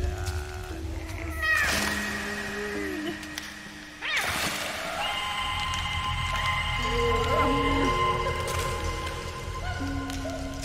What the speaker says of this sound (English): The kitty! Oh, he's not happy.